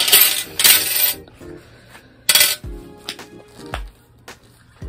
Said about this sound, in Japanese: 小銭がいっぱいいる。